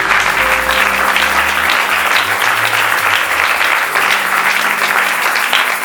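A church congregation applauding at a worship service, a loud, steady wash of clapping from many hands filling the room for several seconds.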